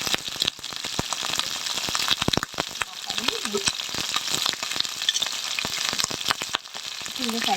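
Mixed vegetables are stir-fried in a pan, with a continuous loud sizzle and the quick scrape and clatter of a utensil stirring close up, while someone speaks briefly now and then.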